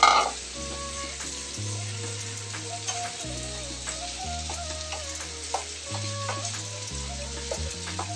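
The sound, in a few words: chickpeas added to a sizzling curry pan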